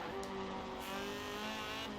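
K20-swapped Integra Type R track build cornering hard in Forza Horizon 4, a steady close engine drone with a sustained tire squeal through the turn, no speech.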